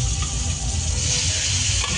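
Cooked cauliflower, potato, capsicum and peas drop into a hot pan for pav bhaji and sizzle steadily, with a dense frying hiss and soft stirring scrapes close by.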